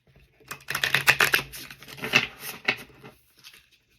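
Tarot cards being shuffled by hand, a few quick riffling and tapping bursts close by with brief pauses between them, then quiet.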